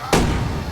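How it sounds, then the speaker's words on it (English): A single sharp gunshot cracks out loud and close as a nervous man fires at a zombie and misses, followed by a brief dull rumbling tail. "he gets nervous, so he misses the target and wastes one bullet"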